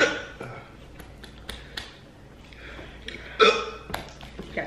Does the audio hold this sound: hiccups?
yes